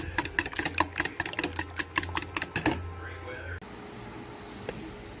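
An electric mixer beats banana bread batter of bananas, sugar, butter, eggs and vanilla, making a loud, rhythmic clattering rattle over a low motor hum that cuts off after under three seconds, leaving quiet room tone.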